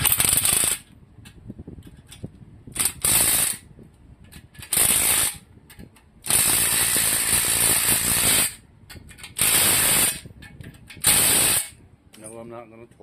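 A ratchet clicks in quick, loud bursts while tightening factory 1/2-inch main cap bolts on an Oldsmobile 350 diesel engine with four-bolt main caps, close up with pauses between strokes.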